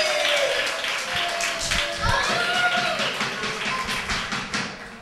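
Applause at a youth football club's end-of-season ceremony, a burst of hand clapping from the gathered crowd mixed with children's voices and chatter, fairly close and fading slightly toward the end.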